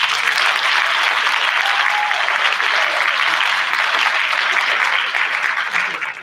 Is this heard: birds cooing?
no